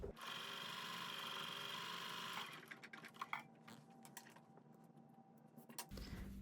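Sewing machine chain piecing a quilt block, a steady fast mechanical whir for a couple of seconds, then stopping into faint clicks and handling taps, with a low hum returning at the end.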